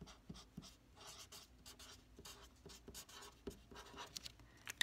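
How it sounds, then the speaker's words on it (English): A green marker scratches and squeaks across a surface in short, quiet strokes, close up and alone, forming letters of a word. "I'm using green to write the word earth."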